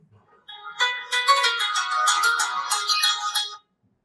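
A ringtone plays on a Samsung A16 phone, a bright melodic electronic tune with rapid repeated notes, heard clearly and alone for about three seconds before cutting off abruptly.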